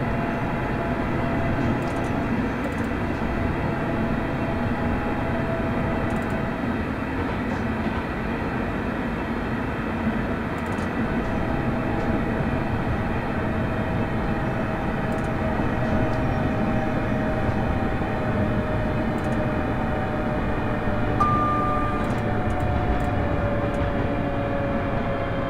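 A steady, continuous rumble and hum of a Class 385 passenger train in motion near Glasgow, heard from inside, with no voices.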